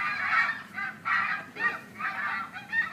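Goose honking sound effect played from a SMART Board speaker in a classroom, a series of about four nasal honks in steady rhythm, fairly loud and alone with no talk.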